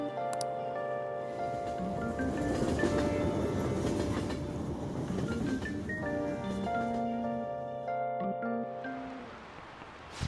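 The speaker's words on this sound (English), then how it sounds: "it looks like the train's coming" A train pulls into a station in the video game Persona 5 Royal, its rumbling and rattling carriages rising and rolling steadily under layered musical tones.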